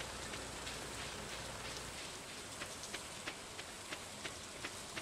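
Steady rain in the farming video game Stardew Valley, a continuous soft hiss with scattered brighter drops growing more distinct toward the end, loud and alone with no talk.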